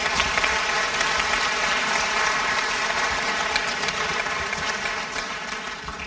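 Sustained audience applause at a French talk on hypnosis in medical care, a dense, steady wash of clapping heard close and loud throughout.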